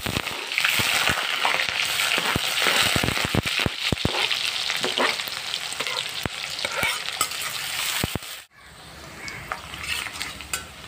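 Onion fries in a pan with mustard seeds, giving a busy, crackling sizzle broken by sharp stirring clicks and pops, then quieting briefly before a softer fry resumes.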